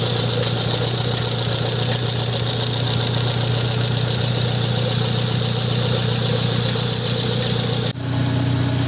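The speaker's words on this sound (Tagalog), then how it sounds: "So sobrang pinong-pino na nung andar ng makina natin." A 2002 Honda Civic engine idles steadily after a valve clearance adjustment, a loud continuous hum with an even low drone and no ticking, running alone for about nine seconds with a brief dip near the end.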